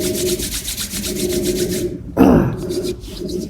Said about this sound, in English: Rub your palms.